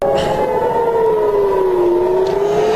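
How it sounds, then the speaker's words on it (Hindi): Air raid sirens wail over Tel Aviv during a missile attack, one loud continuous rising-and-falling tone sustained throughout, with no voices. "तल अवीव और मकबूजा बैतुल मक़दस में सायरन की आवाज़ें गूंज रही हैं।"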